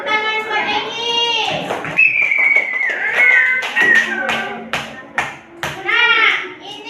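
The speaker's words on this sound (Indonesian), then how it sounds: "tepuk tangan buat Egi" Fourth-grade primary school class clapping for a pupil, a quick rhythmic run of hand claps mixed with children's voices and some talk.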